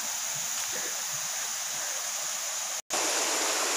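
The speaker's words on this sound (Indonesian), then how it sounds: "Sebelah ini juga sungai." River in the upper Mahakam forest, flowing steadily: a constant broadband rush of water close by, unbroken apart from one brief cut near the end, with no speech.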